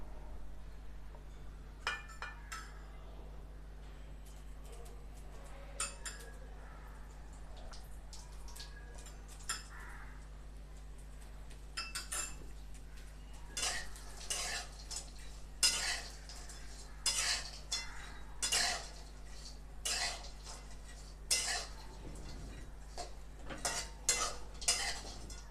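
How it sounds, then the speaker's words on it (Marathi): Dry coconut being dry-roasted in a pan, a utensil stirring and scraping against the metal in irregular clinks and scrapes with faint sizzle, growing busier and louder later, no talking. "आता खोबरं भाजून घ्यायचं."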